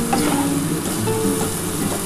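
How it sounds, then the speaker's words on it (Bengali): Onions frying in oil for katla fish curry, a dense close sizzle with light stirring clatter throughout, steady and unbroken. "দেখো কি সুন্দর করে ভেজে নিচ্ছি।"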